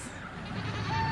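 Small young goats on a homestead farm bleat close by, a short wavering call rising over low background murmur and farmyard noise.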